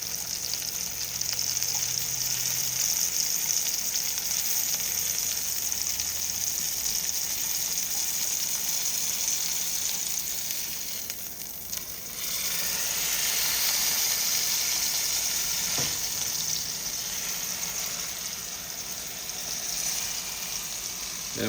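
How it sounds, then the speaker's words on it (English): Fat cap of a bone-in ribeye roast searing in a hot pan, a continuous close sizzle and spitting hiss that dips briefly partway through before resuming, with faint background noise. "Then we're going to put it on the fat cap, brown it."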